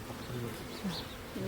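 Honey bees buzz close by at the Hatta Honey Bee Garden in Dubai, a steady droning hum with a few louder passes from individual bees over a busy background.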